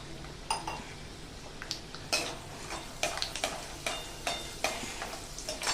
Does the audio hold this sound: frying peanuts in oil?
yes